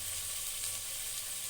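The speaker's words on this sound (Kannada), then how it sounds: "ಟೊಮೊಟೊ ಕೂಡ ಒಂದು 2 ಮಿನಿಟ್ಸ್ ಎಣ್ಣೆಯಲ್ಲಿ ಫ್ರೈ ಮಾಡ್ಕೊಳ್ಳಿ" Tomato frying in oil with ground masala for a black-eyed pea curry gives a brief, even, bright sizzle, steady and close, with no voices.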